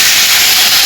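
Water poured into hot frying spices with turmeric and salt in a pan bursts into a loud, steady steam sizzle and hiss that fills the whole short moment, with no talk over it.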